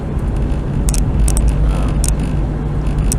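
Car cruising on the Parkway East highway in below-freezing winter weather, a steady loud roar of engine and tire noise from inside the cabin, with a few brief higher rattles along the way.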